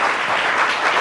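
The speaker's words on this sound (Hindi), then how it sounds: "बहुत सारी तालियां" Studio audience applause on a Kashmiri television program, a brief burst of dense, even clapping from many hands at a loud level with no talk over it.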